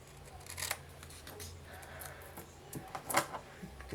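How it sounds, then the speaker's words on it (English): Scissors snipping through a large paper book page during a craft project, several short crisp cuts close by with small handling rustles between them. "I think I cut a bit of the page"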